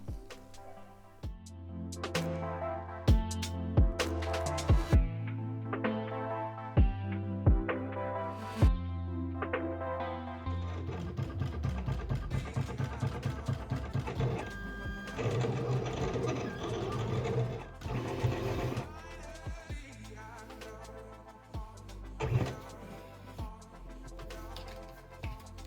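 A Silhouette Cameo cutting machine cuts a paper box template, first with a series of sharp clicks and short motor bursts, then with denser buzzing carriage movements and whirring, heard up close.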